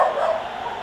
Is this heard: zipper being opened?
no